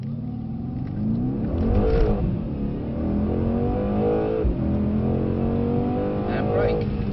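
A Mercedes-AMG C63 accelerates on a track, its engine note droning steadily and rising in pitch across two surges, with a voice talking over the engine throughout.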